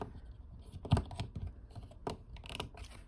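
A plastic Transformers Studio Series 86 Scavenger action figure being transformed up close, with a series of quiet clicks, taps and ratcheting snaps of its parts at an uneven rhythm.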